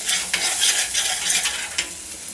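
Egg being stir-fried in a pan for Kerala-style banana flower thoran: close, steady sizzling with repeated scraping strokes of a spatula against the pan, no voices.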